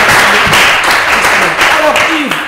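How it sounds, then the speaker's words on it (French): Studio audience applause for a game show contestant named Christina, loud close clapping from a crowd with voices and whoops mixed over it. "Merci beaucoup d'applaudir Christina."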